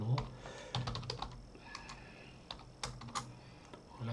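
Someone types code into MATLAB on a computer keyboard, with quiet, irregular clusters of keystrokes and short pauses between them. The sound is close and soft, with no talking.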